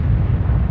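A huge asteroid impact explosion, like an enormous nuclear blast with a spreading fireball, renders as a continuous deep, loud rumbling roar with no talk over it.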